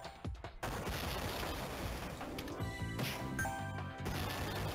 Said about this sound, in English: the spread shot, well, is a spread shot